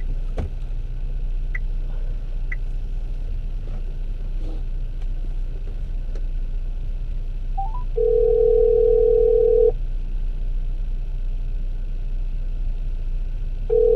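Inside a car on a phone call, a steady hum of the moving vehicle fills the background while a clear electronic tone sounds for a couple of seconds, then briefly returns at the end.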